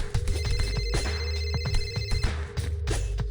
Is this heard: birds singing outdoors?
no